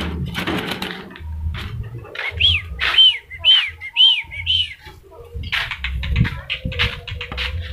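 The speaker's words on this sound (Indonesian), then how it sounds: "Wih, mantap burungnya, euy." Songbird kept for a competition bird contest, giving a run of loud, close, repeated whistled chirps over background chatter and bustle, with people talking around it.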